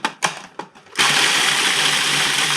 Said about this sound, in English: Just break them up a little bit and put them into the food processor.